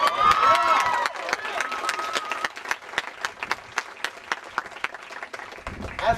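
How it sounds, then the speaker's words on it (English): A voice speaks briefly as an audience at a UCSD teach-in starts clapping, then a sparse, fairly steady round of individual claps carries on, close and distinct, before the sound rises again at the very end. "And give them a round of applause too,"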